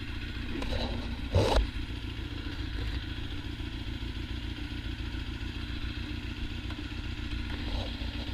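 A motorcycle engine idles steadily up close, a continuous low rumble with a brief louder clatter early on and no voices over it.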